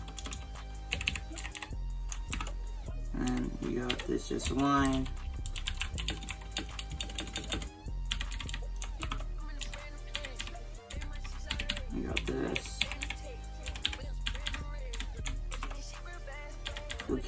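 Typing on a Royal Kludge 60% mechanical gaming keyboard with blue switches, a steady run of clicky keystrokes heard close up over background music while a person talks.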